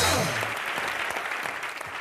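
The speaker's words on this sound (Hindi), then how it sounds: "तालियां भी ठोक के।" Studio audience applause on a Hindi comedy show set, a dense, steady patter of clapping that stays loud throughout and carries a low hum underneath.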